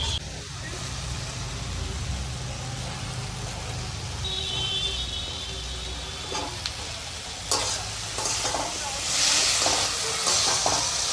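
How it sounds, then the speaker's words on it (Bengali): Potatoes going into fried spice paste in a pan for a village-style shol fish curry, a steady sizzle and hiss with scraping stirs and louder bursts of frying toward the end. "মশলাটা কষানো হয়ে গিয়েছে এবার আমি এর মধ্যে আলুগুলো দিয়ে দেবো"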